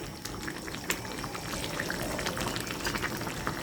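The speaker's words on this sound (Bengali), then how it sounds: "তরকারিটা ফুটে উঠেছে" A pot of jackfruit and shrimp curry bubbling on the stove, giving a steady, soft, close simmering hiss with small popping bursts and no voices.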